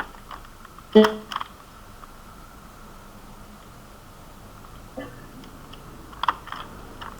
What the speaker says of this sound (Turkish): Yalnız klavye sesim biraz fazla geliyor olabilir kusura bakmayın.